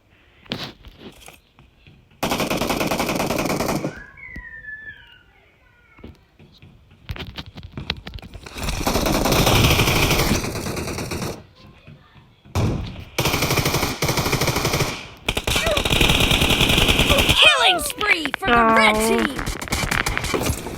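Bursts of machine gun fire and gunshots from a video game set in Ankara, loud and intermittent across the stretch, alternating with quieter gaps and mixed with game effects while a player talks over it.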